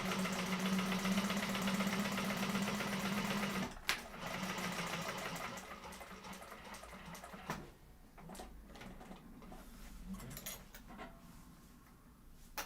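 A sewing machine top stitches a Wayfarer sling bag, whirring steadily and close for nearly four seconds, then running again after a brief pause before slowing into shorter, quieter bursts with handling clicks.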